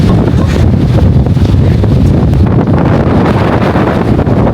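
Strong wind buffeting the microphone outdoors during a seaside outing, a steady loud low rumbling roar with no breaks and no voices.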